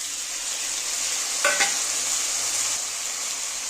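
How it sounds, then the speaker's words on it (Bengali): Paste of green chilli, onion and Kashmiri chilli powder stirred in a hot pan while cooking a fish curry with potato, giving a steady soft sizzle with a brief louder scrape of stirring partway through. "এবার আমি মশলাটা সব দিয়ে দেব।"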